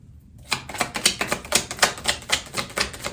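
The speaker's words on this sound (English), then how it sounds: "One more shuffle." Tarot cards are shuffled in a quick, even series of close, crisp riffling taps, about a dozen sharp bursts after a short silent start.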